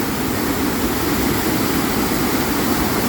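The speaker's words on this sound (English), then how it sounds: "You can hear the water coming through the small dam here beneath us." Water pours through a small dam below a castle in Örebro, a loud, dense, unbroken rush that fills the whole stretch with no pauses.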